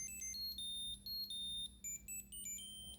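A Find My–enabled wallet plays its locating alert: a series of bright, high electronic chirps and beeps in quick, uneven bursts, close and fairly loud over a low steady hum, with no talking.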